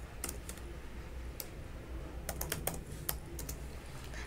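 Keys clatter on a computer keyboard as form values such as an email address are typed in, with short irregular bursts of clicks and pauses in between, close and fairly quiet, with no talking.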